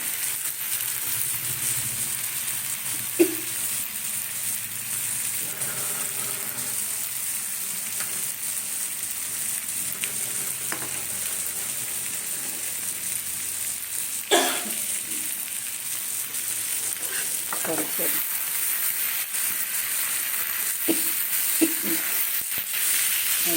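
A bean and poppy-seed paturi filling is sautéed in a pan. It gives a long, steady, fairly quiet sizzle with a few scattered scrapes and clinks of the spatula, close and unbroken.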